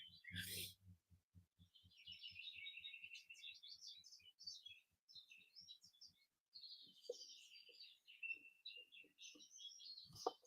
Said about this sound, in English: Are the birds too loud?